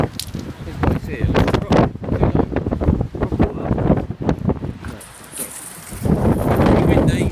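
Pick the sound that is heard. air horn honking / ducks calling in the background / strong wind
strong wind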